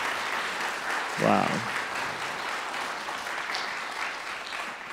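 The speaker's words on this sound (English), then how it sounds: "Can we give another round of applause" An audience claps steadily after a music and dance performance, a continuous patter of applause with a brief spoken exclamation over it.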